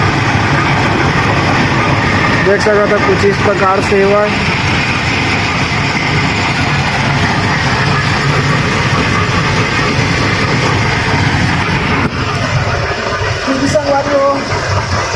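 Loud, continuous rumbling of trains and heavy engines near an industrial plant, a dense low roar that persists throughout while someone talks intermittently over it.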